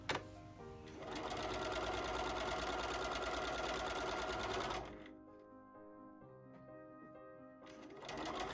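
A sewing machine runs steadily for about four seconds, stitching quilt rows together for a Double Irish Chain quilt, then stops, with a short restart at the very end; the whirring is close and clear, with no talk.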